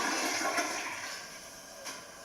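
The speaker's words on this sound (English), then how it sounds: "toilet flushing" A household bathroom toilet flushes close by, a loud rushing hiss of water that fades slightly over a couple of seconds, heard alone.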